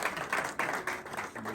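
An audience applauding director Vincent Cliquemailly at a restaurant masterclass in Monaco, a short burst of moderate, fairly distant clapping with slight swells in intensity.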